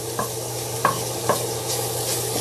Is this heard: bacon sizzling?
yes